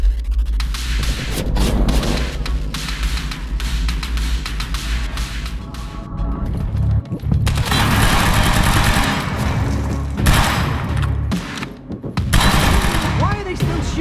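Heavy gunfire in the video game Quantum Break, with dense bursts of rapid shots and booms throughout, loud and close, broken by brief lulls and mixed with voices.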